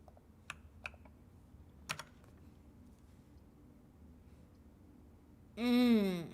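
Quiet, sparse clicks from a computer keyboard during gaming: a handful of isolated keystrokes spaced over several seconds, followed by a brief burst of voice at the end.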